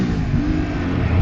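A Triumph Street Triple 675R motorbike engine revs loudly and continuously inside a tunnel, a dense, steady roar heard up close with no talking.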